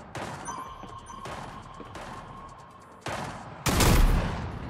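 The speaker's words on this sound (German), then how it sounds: "Ich schieße einfach auf alle Tische." Bursts of gunfire in Fortnite Prop Hunt as a player shoots at tables, with several rapid volleys that end in a louder, denser burst of shots.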